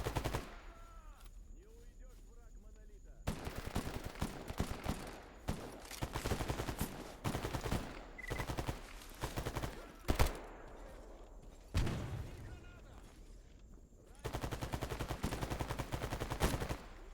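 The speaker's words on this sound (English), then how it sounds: "And he's firing up this way." Enemy gunfire in the shooter Stalker GAMMA arrives as long stretches of rapid automatic shots mixed with single loud cracks, nearby and steady, with brief quieter pauses between bursts.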